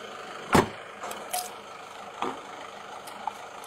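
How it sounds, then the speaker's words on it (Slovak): A car door slams shut near the start, followed by a few fainter clicks and thumps of locking at a roadside police stop, with no talk. "Vozidlo zavrite, uzamknite si."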